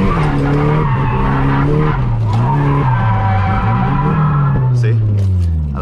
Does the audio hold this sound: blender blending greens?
no